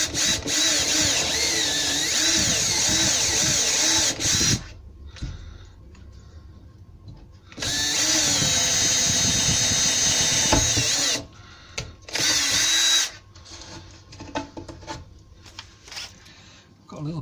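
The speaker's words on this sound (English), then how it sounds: "I'll drill a hole there and a hole there, and I'll join that up to make like a little keyhole." A power drill bores holes through an outside boiler room door in a basement to form a keyhole, whining in three loud bursts separated by quieter scraping and handling noises.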